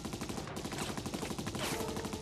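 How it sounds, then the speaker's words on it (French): Rapid bursts of gunfire from gangsters shooting into the air in a low-budget action film, loud and continuous with dense overlapping shots throughout. "les mecs tirent en l'air mais réussissent à toucher le sol"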